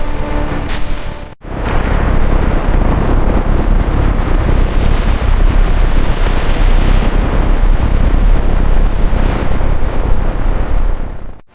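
A Titan ballistic missile ignites and launches. After a brief sharp sound and a momentary gap, a loud, continuous, broadband roar builds and holds steady, heavy in low rumble, with no voices over it.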